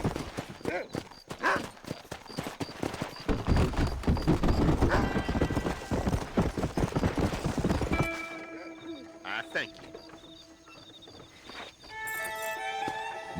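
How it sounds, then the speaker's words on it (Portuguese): Horse hooves clip-clop at a run in the western video game Red Dead Redemption, loud and rhythmic at first with a whinny, then slowing and fading under game music and effects while someone talks. "O cavalo."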